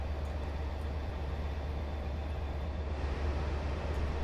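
A Class 67 diesel locomotive in Train Simulator 2014 slowly braking to a halt, giving a steady low rumble and broadband grinding hiss that stays loud and even throughout, with no voices.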